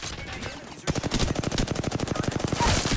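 Rapid automatic gunfire from a match in the Apex Legends video game, a dense steady stream of loud shots beginning abruptly after a short quieter stretch and continuing to the end.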